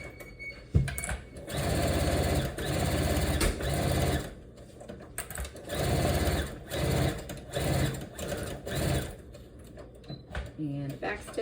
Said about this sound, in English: we're going to sew it just like we did on the other side